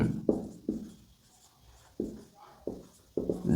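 Pen or pencil writing by hand on paper while note-taking, heard as several short scratchy strokes in irregular bursts, close and fairly soft, with no talk.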